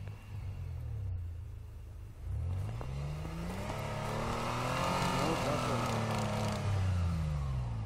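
Off-road vehicle engine, a Pajero or UAZ, revs outdoors with rising and falling rumbling pitch that swells louder toward the end, while people talk over it.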